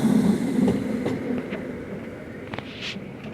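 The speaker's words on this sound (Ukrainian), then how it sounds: "По вулиці їде той трамвай." A San Francisco tram rolls along a street, a rumbling rail sound with clicks and a brief squeal, fairly close and fading slightly as it passes, heard alone with no talk.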